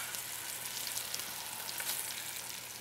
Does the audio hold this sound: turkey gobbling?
no